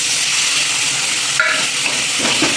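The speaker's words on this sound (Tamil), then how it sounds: "இது 2 நிமிஷம் வதக்கி நல்லா வதக்கிடலாங்க." Onion, ginger-garlic paste and tomato sauté in a pan for a curry, giving a loud, continuous close sizzle. Brief stirring scrapes break through toward the end, with no talking.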